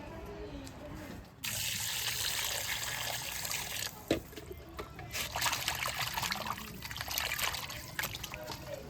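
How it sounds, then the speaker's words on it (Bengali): Raw chicken meat being washed under running water, a close trickling and splashing stream that starts after a quiet moment and continues with some handling noise. "চলুন এখন মাংসটা ধুয়ে নিয়ে আসি"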